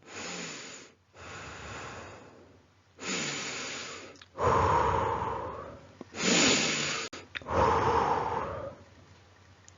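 Children doing breathing exercises in a classroom lesson, a series of long, loud inhales and exhales repeated in slow rhythm, with brief pauses between breaths.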